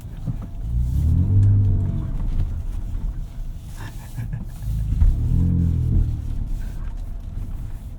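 A 2024 Ford Ranger Raptor truck drives off-road at speed, its engine rumbling and surging in two heavy swells amid buffeting wind noise.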